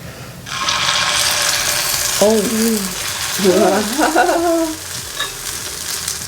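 Paniyaram batter poured into a hot pan with butter, breaking into a broad steady sizzle that starts abruptly and holds throughout, with brief high squeaky tones over it and no talk.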